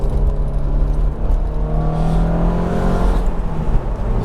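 A BMW Z4 engine pulling hard in second gear, with a loud, steady drone that shows a gently rising tone, heard from inside the car and holding continuously throughout with no voices.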